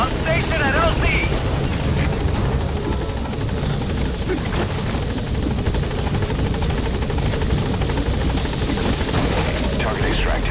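The B-Quad support helicopter in Metal Gear Solid 5 thumps in toward the landing zone, its rotor drone loud and continuous, with radio voices speaking over it.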